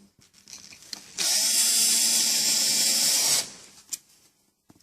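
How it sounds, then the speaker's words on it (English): A power drill set to low speed drives screws to fix hinges in place, a loud steady whine lasting about two seconds with quieter handling noises before and after. "Making sure that your drill is on the low speed, not the high speed."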